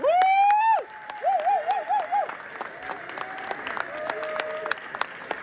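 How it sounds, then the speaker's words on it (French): Audience applause at a public tribute near Le Bourget, a dense clatter of many hands under a sustained tonal wail and warbling whistles, the noise dropping slightly after the first second and continuing steadily. "Tonnerre d'applaudissements, s'il vous plaît."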